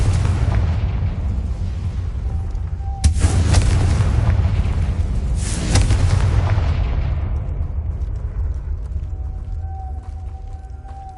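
A Confringo blasting spell detonates in the Hogwarts Legacy video game with a loud, close boom that falls into a long rumbling tail, and a second blast swells a few seconds later before everything fades into quiet ambience.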